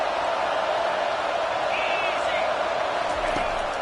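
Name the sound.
loud football stadium crowd cheering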